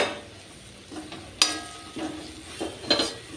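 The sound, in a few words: stirring chicken curry with masala and curry leaves in pan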